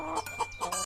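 A hen clucks in a few short, close bursts, brief rhythmic calls with no talking.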